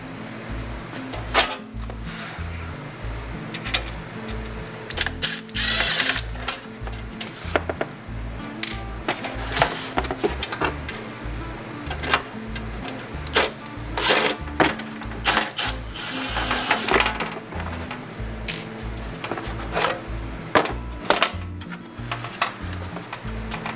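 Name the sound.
removing screws from dbx Driverack 260 faceplate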